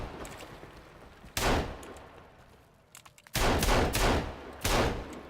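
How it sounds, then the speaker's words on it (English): Pistol gunfire in the survival game Sons of the Forest: loud, close bursts of shots at irregular intervals, with a longer rapid cluster near the end, separated by quieter ambient game noise, no talking. "I had to pull the pistol out."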